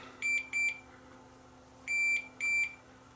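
A multimeter giving continuity test beeps during a speaker teardown: four short, clear electronic tones, two quick ones followed by two more after a pause, with no talking.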